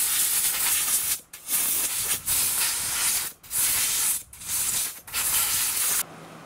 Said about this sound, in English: Blot it off a little bit and then hit it with compressed air.